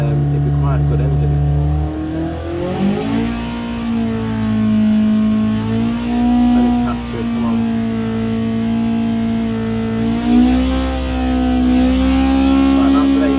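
Hillman Imp engine on a dyno revving hard in a steady, sustained loud drone with rising and falling pitch and raucous intake noise, while someone talks over it.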